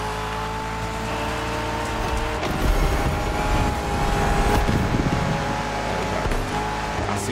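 Ford Mustang engine roaring in The Crew Motorfest video game, a steady loud drone with rising acceleration swells midway, racing along a beach course, no voices.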